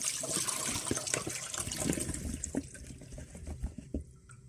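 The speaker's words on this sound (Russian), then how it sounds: "Теперь сливаем воду." Cold water drains out of a container, a gushing pour close by that thins into trickles and scattered drips toward the end.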